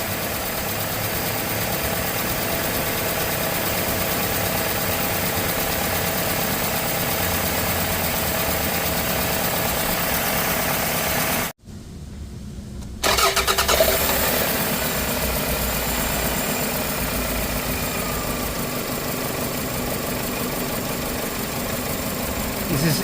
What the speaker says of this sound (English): This is engine idling